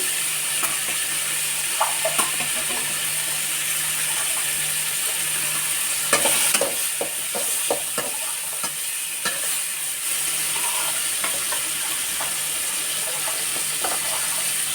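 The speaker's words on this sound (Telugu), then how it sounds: "ఆయిల్ వేసాను కొంచెం ఆయిల్ వేసి ఈ విధంగా వేగాలి కొద్దిసేపు" Tomatoes frying in a little oil in a pan for a tomato and peanut chutney, with a continuous sizzle and a cluster of sharper spatula clicks and scrapes midway, close and steady.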